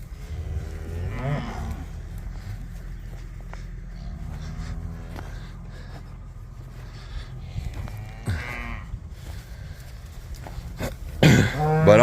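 Cattle being hauled home low and moo repeatedly, several drawn-out calls spaced across the scene, fairly close, with a cough-like snort and rustling movement near the end.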